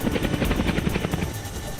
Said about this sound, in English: The helicopter has made it.